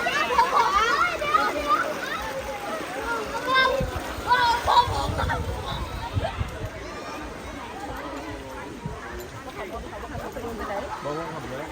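Crowds splash and play in cold spring water at Nam Phut Thap Lao, with scattered splashes under constant lively chatter and children's voices close by.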